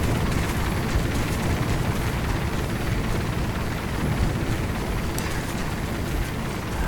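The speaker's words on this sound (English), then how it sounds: "Trying to get away from this helicopter noise." A helicopter in the video game Operation Flashpoint: Dragon Rising drones continuously with a heavy, rumbling rotor chop, loud and unbroken throughout with no speech over it.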